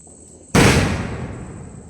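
A single sharp firecracker bang goes off after a brief quiet, followed by a crackling, fading tail.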